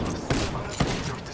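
Gunfire in the shooter game Valkyrie: continuous rattling fire with two heavier bursts about half a second apart, loud and close.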